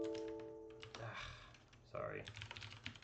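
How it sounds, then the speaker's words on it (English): Keys clacking on a computer keyboard in quick bursts, close and moderately loud, with a brief spoken word partway through and a steady low hum beneath. "All right, typing's hard."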